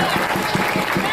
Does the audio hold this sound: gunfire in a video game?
no